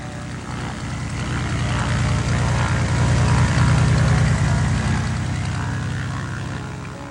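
Mission Aviation Fellowship propeller plane droning steadily overhead in remote highland Indonesia, swelling louder toward the middle as it passes close, then easing slightly, with no voices.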